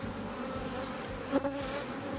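Honey bees swarm around frames lifted from an opened hive, giving a continuous close, steady buzzing hum with a slight brief swell partway through and no voices.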